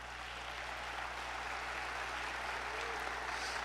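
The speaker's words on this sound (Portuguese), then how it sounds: "Se você tem um pai, dá um aplauso ao Senhor." Soft, continuous applause from a church congregation during a sermon, a diffuse wash of clapping heard at a distance beneath a steady low hum, with no voices over it.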